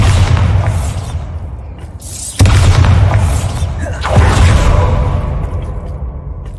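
Booming blasts from the Bombarda spell in Hogwarts Legacy go off in quick succession, each a sharp, loud onset that falls into a rumbling, whooshing tail, with no voices over them.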